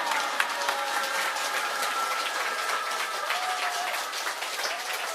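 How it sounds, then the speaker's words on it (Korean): An audience applauding enthusiastically, with dense, sustained clapping from a large crowd that stays loud and even across the whole stretch while faint tones and voices sit in the background. "신이님께 더할 나위 없는 이 감동의 박수, 우렁차게 올려주십시오"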